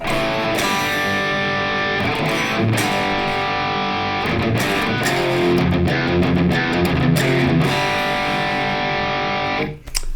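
A loud distorted electric guitar riff plays with heavy effects, chugging and sustained chords repeating steadily before briefly cutting off near the end.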